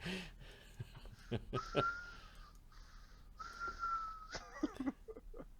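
A voice imitates whistling nose breathing: two drawn-out, thin whistling tones over breathy air, broken by a few short clicks and snorts, up close and fairly quiet.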